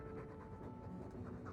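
Dog panting in a video game: rapid, rhythmic breathy huffs repeating close up and fairly constant, a steady stream of short in-and-out breaths with no talking.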